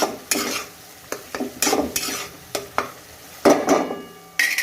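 Spice masala for a pumpkin curry stirred and roasted in oil in a pan: irregular scraping stirs and clinks of a spoon against metal over a soft, steady sizzle, close and fairly loud.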